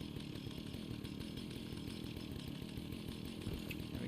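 The Vampire's Chainsaw from the Fallout video game runs steadily for several seconds, a continuous loud buzzing engine drone with no pauses and no talk.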